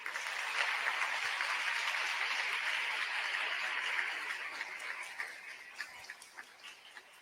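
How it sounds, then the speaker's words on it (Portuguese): A church congregation breaks into sustained applause after a scripture reading, a dense wash of clapping from many hands that holds steady, then thins and fades into scattered claps. "Vamos aplaudir a palavra de Deus?"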